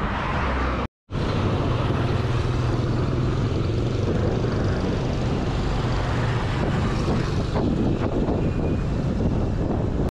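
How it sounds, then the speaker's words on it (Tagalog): Heavy headwind buffets the microphone on a bike ride around Taal Lake, a steady, roaring rush broken by one brief dropout near the start. "ang lakas pa ng hangin, sumasalubong"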